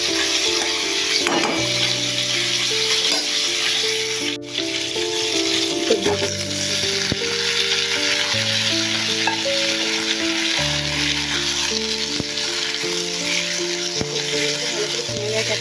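Rohu fish pieces fry in oil after being turned, a steady crackling sizzle that runs throughout, with faint tonal background sounds underneath.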